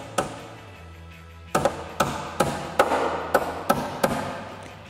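A hammer taps a part into place on a Ford Bronco tailgate table, sharply about eight times, the first alone and then in a quicker, fairly even series, close by with no talking.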